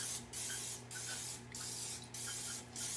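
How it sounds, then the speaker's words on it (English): Cooking spray is sprayed into the cups of a muffin pan in five short hissing bursts, each about a third of a second long, close to the microphone with no talk. "You want to spray your cups, so let's do that."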